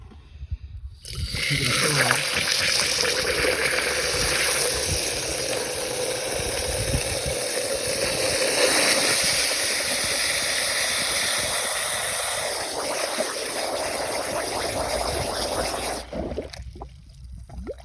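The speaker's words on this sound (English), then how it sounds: "see how it's bubbling?" Coolant bubbling and hissing in a no-spill radiator filling funnel during a car coolant flush, a continuous close-up gurgling wash that runs steadily for most of the stretch before cutting off.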